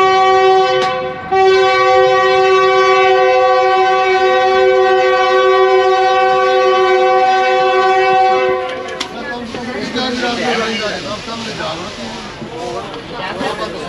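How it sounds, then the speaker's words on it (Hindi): Long, loud horn blast from the 9UP Allama Iqbal Express passenger train departing Karachi, steady and tonal for about eight seconds, then giving way to rumbling wheels and station bustle with voices in the background. "9UP अल्लामा इकबाल एक्सप्रेस कराची से सियालकोट के लिए चलती है"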